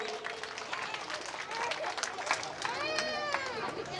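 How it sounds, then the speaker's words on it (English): Audience clapping at a winter carnival honoring ceremony, a dense crowd applause mixed with chatter and a few higher voices, steady and moderately loud throughout. "All of you clap your hands, everyone."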